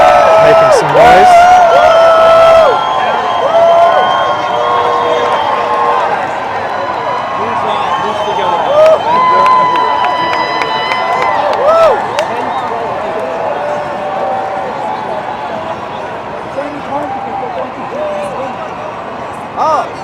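A crowd at the 2022 New York City Pride March in Manhattan cheers and whoops, with loud shouts and whistles up front that fade into a sustained, distant roar of voices and street noise.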